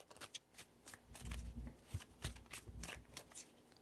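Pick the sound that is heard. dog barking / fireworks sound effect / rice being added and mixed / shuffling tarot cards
shuffling tarot cards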